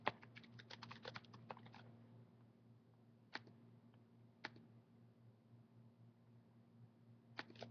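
Typing on a computer keyboard, a quick run of soft close key clicks followed by a few isolated taps spaced seconds apart, quiet over a low steady computer hum.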